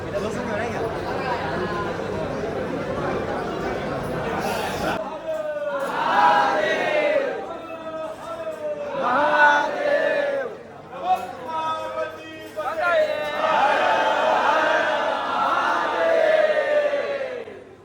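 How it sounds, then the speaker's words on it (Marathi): Large crowd chattering at the Trimbakeshwar Jyotirlinga temple in Nashik, a dense babble of many voices with surges of louder shouting, sustained throughout and close around. "हे बघा किती गर्दी आहे"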